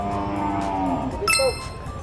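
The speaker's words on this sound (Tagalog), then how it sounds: "Uy, ang ganda ng kalabaw na to, oh." A carabao, a water buffalo, moos in one long low drawn-out call near a livestock market, loud and close, followed by a brief bright clang.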